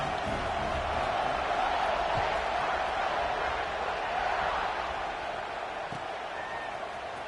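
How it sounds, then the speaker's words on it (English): A football stadium crowd buzzes after a score, a dense and even roar of many voices that holds steady at a distance, with no single voice standing out. "this crowd is buzzing after that last score"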